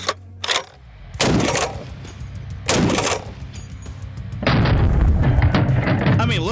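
Loud, heavy .50 caliber gunshots boom out close by in a rough rhythm, with a few single blasts early on and then a sustained burst of fire toward the end.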